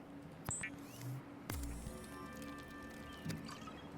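Drinking water in the underwater survival game Subnautica: a few soft liquid gulps and drips play as game sound effects, with faint tonal chimes in the background and no voices.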